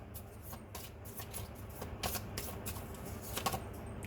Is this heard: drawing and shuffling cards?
yes